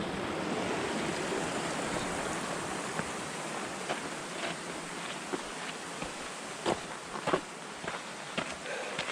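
A mountain stream at the North Fork water source near Mount Whitney rushes steadily with broad, constant splashing water, close by, with a few scattered footsteps or knocks over the flow.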